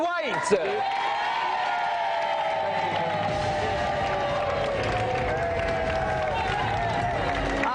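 A studio audience cheers and applauds continuously, with whoops rising over steady clapping, loud and sustained, as a snooker player is introduced on a TV game show.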